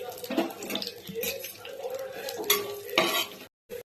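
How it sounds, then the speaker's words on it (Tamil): Chopped onions frying in hot oil for chicken gravy, close crackling sizzle with busy stirring scrapes and clatters, ending abruptly in a short silence and a brief final burst. "இப்போ நம்ம போட்ட ஆனியன் அங்கே வதங்கிட்டு இருக்கு"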